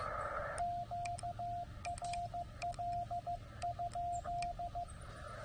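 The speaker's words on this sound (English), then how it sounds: "it's got a little Morse code." Morse code tones on a ham radio at 14064, with a steady single-pitch beep keyed in short dots and longer dashes, fairly clear over faint static.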